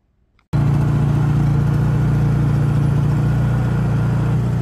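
A 3,000 watt portable generator starts abruptly after a moment of near silence, then runs at a steady, loud, close drone with a constant low hum and no voices.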